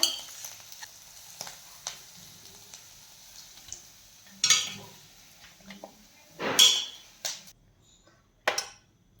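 Fried mixed vegetables are lifted out of a pan, with a soft oily sizzle, scattered spoon scrapes and a few louder metallic clinks against the pan, and no talking.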